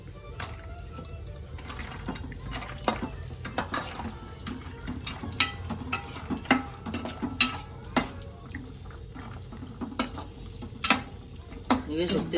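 Ingredients for kobri khara frying in a pan until reddish, heard as a continuous low sizzle with frequent scraping stirs and clinks of a utensil against the pan, close and moderately loud.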